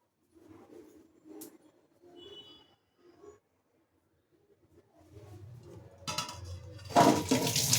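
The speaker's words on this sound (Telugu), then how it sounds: "ముందుగా మనం కాలీఫ్లవర్ని వాటర్లో బాయిల్ చేసాం కదా, ఆ వాటర్ అనేది దీంట్లో వడపోసేసేయాలి." A few soft clinks and handling sounds, then cauliflower boiling water pours and splashes loudly through a sieve over the last few seconds, up close.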